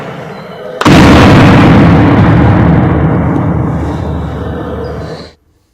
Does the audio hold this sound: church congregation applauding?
no